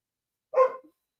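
A dog lets out a single short bark, a moderately loud, clear yip that is heard alone against silence.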